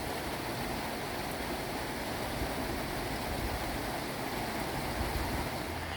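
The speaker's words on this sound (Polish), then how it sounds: "Niestety po powrocie z plaży okazało się, że znowu rozpętała się solidna ulewa." Heavy downpour near a beach in Hua Hin, a steady dense roar of rain that stays constant and loud throughout, with no voices.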